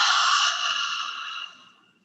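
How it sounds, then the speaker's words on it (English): A single long, breathy exhale through the mouth during yoga breathing practice, close and fairly loud, gradually tapering off over about two seconds with no talk. "Inhale through the nose. Exhale through the mouth."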